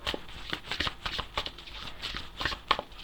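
Tarot cards are shuffled close up in quick, irregular riffles and slaps, a run of soft papery flicks with no talking over them.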